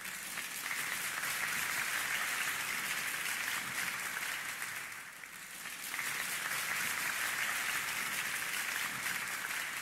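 Studio audience at a television show set applauding a guest, loud sustained clapping from a large crowd that dips briefly midway and then swells again, with no voices heard.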